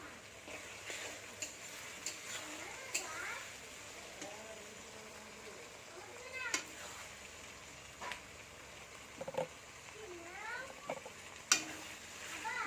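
Ginger paste is stirred into already fried garlic paste in a pan while cooking goat meat; faint sizzling runs under scraping spoon strokes and occasional light clinks, quiet throughout.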